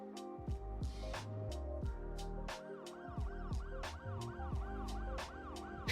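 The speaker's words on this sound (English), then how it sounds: "can you show me what the sirens sound like in this game?" Emergency vehicle sirens in the city-building game Cities Skylines 2, with several wailing, warbling siren tones overlapping and sweeping up and down, steady and fairly clear with no talk.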